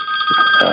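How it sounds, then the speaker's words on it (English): A telephone rings once in a brief burst in the background of an interview, a steady electronic tone with a faint bit of noise under it. "Sorry about the phone there."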